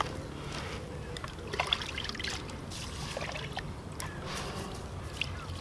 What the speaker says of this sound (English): I fully cover them in water and I'll leave them for probably 5 minutes.